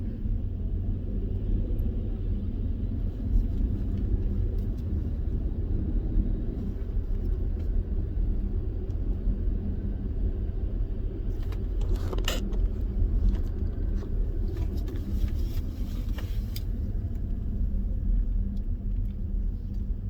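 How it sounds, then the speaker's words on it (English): A car travels along the road, with a steady low engine and road rumble filling the cabin throughout and a few faint clicks and rattles near the middle. "as I'm driving to work this morning"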